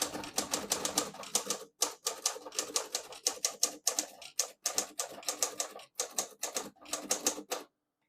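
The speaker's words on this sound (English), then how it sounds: "Beautiful typing machine." Close, crisp typing on a 1940 Corona Standard portable typewriter: quick bursts of sharp key strikes with short pauses, fairly quiet, ending in silence.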